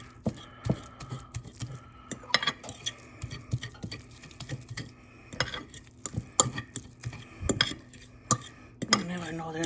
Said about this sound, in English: I'm mashing it with a fork because it's really, really soft.